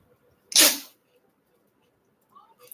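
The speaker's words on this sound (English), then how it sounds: "I had to sneeze." A single loud, sharp sneeze bursts out near the mic, followed by quiet and a few faint sounds at the end, during a Marvel Rivals gaming session.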